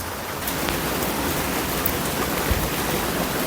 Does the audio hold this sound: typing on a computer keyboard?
no